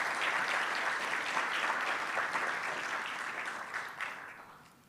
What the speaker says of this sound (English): Please give him another big round of applause.